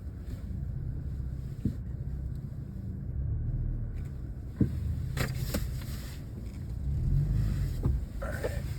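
Off-road vehicle rolling along a forest trail in Green Ridge State Forest in two-wheel drive, a steady low engine and tyre rumble with wind buffeting the microphone and a few faint clunks and knocks, no talk.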